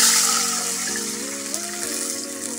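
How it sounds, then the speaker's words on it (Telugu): Water pours into a pan while a sweet bread-halwa dessert is being prepared, giving a steady continuous splashing stream with a shifting tone, close and fairly loud, with no voices. "వాటర్ పోసుకుంటున్నాం."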